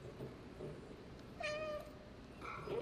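A cat meows in the game Stray, a single clear meow in the middle, followed by a fainter second one near the end, over a low ambient background.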